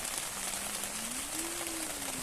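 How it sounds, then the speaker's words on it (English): Rain falls at a campsite in England, a quiet, even patter on surfaces with a faint tonal hum drifting beneath it, no talking. "This rain needs to go away."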